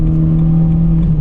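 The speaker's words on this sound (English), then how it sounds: "my engine sounds way better than it did before." A car engine fitted with a cold air intake hums at a steady idle, a loud, close, continuous low drone with no talking over it.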